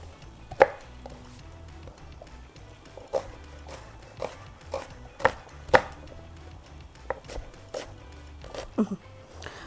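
A knife chopping vegetables into thin slices on a board for a funchoza noodle and chicken dish, a dozen or so crisp, irregular chops spaced a second or two apart, close and distinct over a quiet room.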